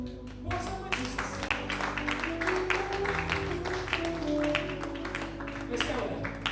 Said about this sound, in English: You clap for God